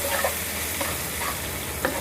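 Tomatoes with salt are stirred in a hot pan for langar-style dal, with a continuous sizzle and a few soft scraping strokes close by.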